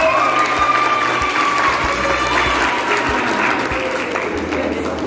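A roomful of students claps steadily and loudly after a group presentation, with a few young voices calling out through the applause.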